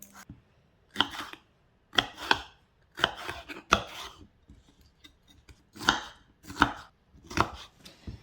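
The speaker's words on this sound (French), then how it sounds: "je coupe les poivrons, carottes et aubergines en petits carrés" Knife chopping peppers, carrots and aubergines into small squares on a board, in several quick bursts of crisp cuts separated by short pauses, close and clear with no talk.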